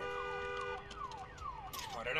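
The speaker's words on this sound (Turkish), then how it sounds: "Kapat şu alarmı ya" A car alarm in the Days Gone video game wails in a repeating cycle of falling electronic tones over steady background hum, with a sharper burst near the end.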